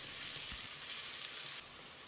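Onions sizzle and crackle steadily in a hot pan, frying until golden for a Chettinad gravy, a close, even frying hiss with no voices.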